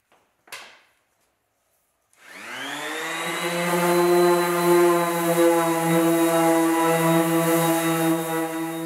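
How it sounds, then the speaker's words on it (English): An orbital sander with 220 grit sandpaper scuffs a scrap metal panel. A single click comes first, then the motor spins up into a loud, steady whine that holds close by with no talk. "I used 220 grit sandpaper and orbital sander"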